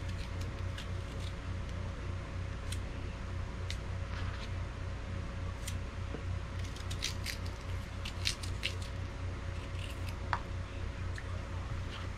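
Fresh picked pears being cut with a knife, producing scattered short crisp snips and squishes over a steady low background hum, close but soft.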